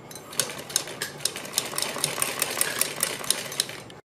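A sewing machine stitches along a folded fabric strip for a stylish neck design, giving a steady run of quick, evenly spaced mechanical clicks close by with no talking.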